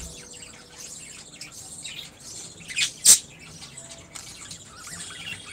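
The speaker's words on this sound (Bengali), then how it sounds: "মিষ্টি মিষ্টি পাখিগুলোর আওয়াজ দেখেন, কি সুন্দর ভয়েস" Pet birds in a home bird setup chirp and tweet steadily, and two short loud squawks stand out near the middle against a faint noisy background.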